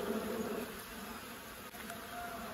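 A steady swarm hum of honey bees around a beehive at a countryside apiary, close and continuous throughout, with no voices.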